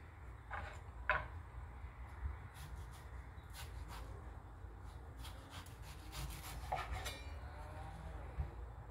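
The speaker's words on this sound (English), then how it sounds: "just use my bigger knife to cut this" A big kitchen knife cutting through a mango, soft scraping and rubbing strokes with a few light clinks, quiet and close, with no talking.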